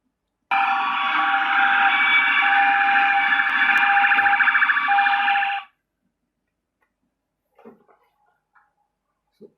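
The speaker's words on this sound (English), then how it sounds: "That is a siren." Siren recording played back, a loud steady electronic wail that sounds for about five seconds and then stops, followed by a few faint clicks and soft knocks.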